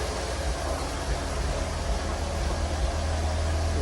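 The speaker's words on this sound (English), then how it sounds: "Ooh. My car runs again." A cheap secondhand Volkswagen Jetta runs after an oil change, its engine giving a steady, close, noisy drone with a low rumble and broad hiss and no talk over it.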